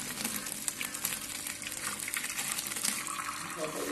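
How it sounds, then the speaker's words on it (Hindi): Boiled atta (whole-wheat) noodles and their hot cooking water poured into a strainer in a home kitchen, with a steady, rushing splash of draining water that lasts throughout. "अब छानने में हम गिरा देते हैं,"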